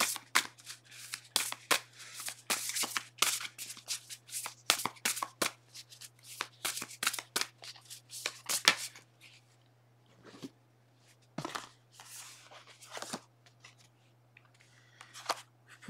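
Oracle cards being shuffled by hand, a dense run of crisp riffling and flicking bursts over a steady low hum, thinning into sparser single card slides and taps toward the end; no voices.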